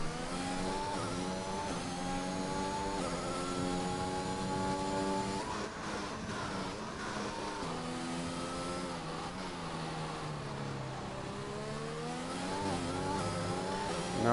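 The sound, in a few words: race car engine on the home straight in a racing game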